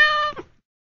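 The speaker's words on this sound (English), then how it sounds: "A cat makes a meow sound." A single cat meow, clear and close, lasting under half a second before silence.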